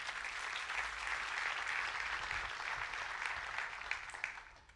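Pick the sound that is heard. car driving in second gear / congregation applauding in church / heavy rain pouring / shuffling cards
congregation applauding in church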